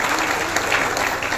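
Applause from an audience at a temple anniversary celebration honouring donors, a dense steady patter of many hands clapping together for a moment, filling the space evenly throughout.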